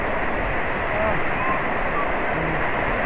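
Water churns continuously in a water park wave pool, a dense close wash of splashing surf with faint voices of swimmers mixed in.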